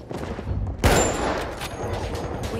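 Gunfire in the video game Battlefield 1, a heavy blast near the one-second mark followed by a rolling burst of shots and distant battlefield rumble, loud and close.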